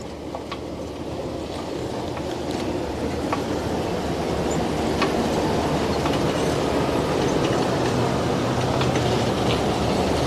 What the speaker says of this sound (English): Just gonna have to take the rattling a little bit longer.